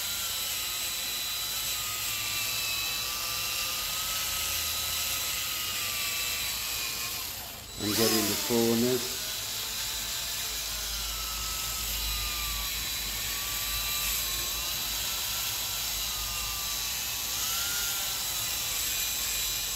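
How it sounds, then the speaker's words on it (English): A drill spins a conical foam polishing pad inside the spokes of a pearl white Volvo XC40 wheel during detailing, a steady high whine that runs throughout, with a brief shift midway and a few words spoken over it. "I've put a conical foam pad on a drill, and basically it enables me to polish inside all these spokes"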